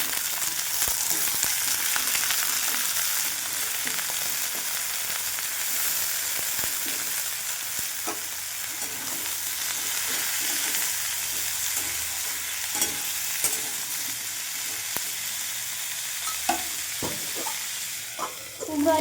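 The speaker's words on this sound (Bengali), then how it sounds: "কুমড়ো আলু ভাজা হয়ে গেছে," Pumpkin and potato pieces fry and sizzle steadily in a pan with onions, with occasional scrapes and clinks of a spatula stirring them throughout.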